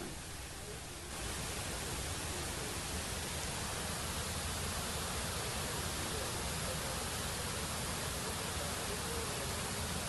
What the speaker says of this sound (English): Listen to the sound of that water.